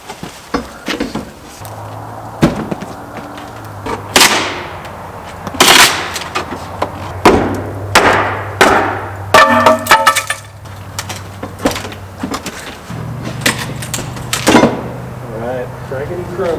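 Exterior trim around a back door being ripped out with tools, with repeated sharp cracks, snaps and splintering bangs in an irregular rhythm. A steady low hum runs underneath and a person talks between the bursts.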